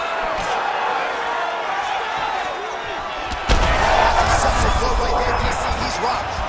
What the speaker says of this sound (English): That was a beautiful hook. It landed perfectly, and it hurt his opponent very bad.